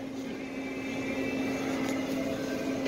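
A Claas Lexion 570 combine harvester heading down a driveway gives a steady droning engine hum with a strong low tonal whine, heard from close by, with no talk.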